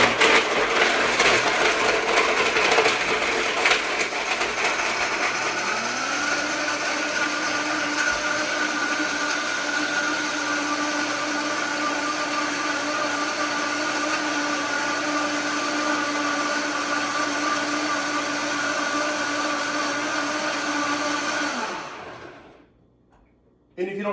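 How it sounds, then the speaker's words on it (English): A Vitamix blender whirring through a pina colada, loud and close, its motor pitch rising after a few seconds and then roaring steadily for about twenty seconds before cutting off abruptly. "onto the handy dandy blender, and I apologize in advance for the noise"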